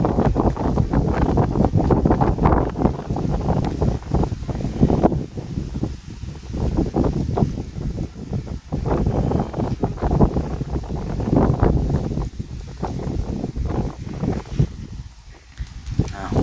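Wind blowing outdoors, loud and continuous, roaring across the microphone with rustling textures and brief dips in strength.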